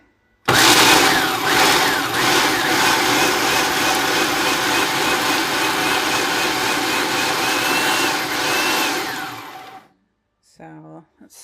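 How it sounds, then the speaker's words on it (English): A food processor pulsing pesto whirs loudly and steadily for about nine seconds, a dense mechanical grinding, then cuts off, followed by a brief faint clatter. "You can use a food processor or a blender."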